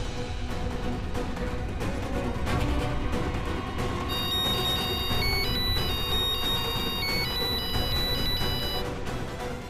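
A telephone rings in a Hindi TV serial drama scene, its electronic ringtone repeating steadily over a loud music backdrop for most of the stretch.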